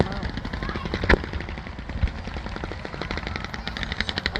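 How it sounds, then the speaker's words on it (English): Fireworks going off at a show in rapid, crackling bursts with a few heavier booms, a dense popping rhythm like gunfire, with faint voices in the background. "I don't think I've been to a fireworks show for this long."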